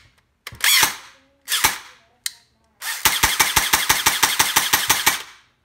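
An electric airsoft gun with its gearbox motor hooked up on a repair bench fires short bursts, then a longer run of rapid, evenly spaced mechanical clacks, loud and close.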